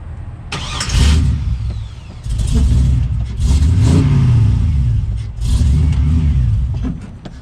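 A car engine that will not idle properly revs up and falls back in several uneven surges, sputtering roughly between bursts, loud and close.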